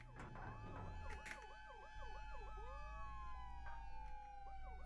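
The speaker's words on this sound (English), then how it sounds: "How do I do my siren on?" An emergency vehicle siren wails in the police, fire and EMS game Flashing Lights, cycling quickly up and down before settling into a long, slow tone, faint and steady over a low engine hum.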